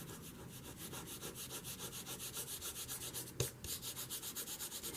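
Fabri-Tac craft glue is rubbed off a craft surface in steady, rhythmic back-and-forth strokes, about three per second. The scrubbing sounds close and fairly quiet, with one brief bump partway through.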